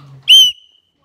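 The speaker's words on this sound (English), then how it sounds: "But I just like it as a whistle, so I can do this to my followers." A single loud, shrill blast from a handheld whistle cuts in sharply, holds for about a quarter second, then stops abruptly into silence.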